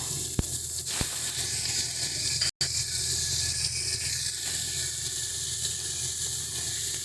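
Green chilli paste, ginger paste and cumin seeds sizzle in well-heated oil for a rohu fish curry with tomato. The hiss is steady and close, broken by a couple of sharp clicks early on and a brief dropout.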